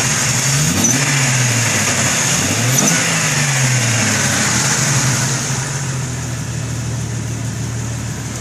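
A Jeep 4.0 engine running freshly fitted with new spark plugs, loud and close, with a couple of quick revs rising and falling before settling into a steady idle.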